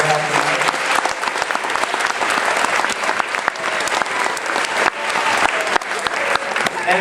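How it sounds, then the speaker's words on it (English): Audience applause at a school concert and ceremony, a dense, steady wash of many hands clapping at close range for several seconds without a break, with no talking over it. "big round of applause for their help tonight."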